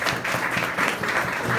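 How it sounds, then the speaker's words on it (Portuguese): A church congregation applauds together during a worship service, a steady, fairly loud wash of clapping that holds evenly for a short stretch with no voices on top. "Aplauda o nome do Senhor"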